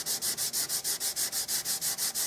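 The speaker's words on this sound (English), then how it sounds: "I'm going to sand that." Super glue filler on a Winchester Model 100 rifle is sanded with quick, even back-and-forth strokes, a close rhythmic scratchy rasp repeating about five or six times a second, with no talking.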